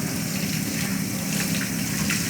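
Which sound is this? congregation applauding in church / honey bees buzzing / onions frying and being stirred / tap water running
tap water running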